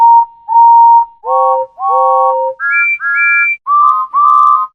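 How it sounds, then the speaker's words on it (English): Whistle blasts from Thomas and Friends engines on the Island of Sodor, a run of about eight tonal whistles of varying pitch, some single-toned and some chord-like, loud and close with short gaps between them. "And all the engines laughed and whistled."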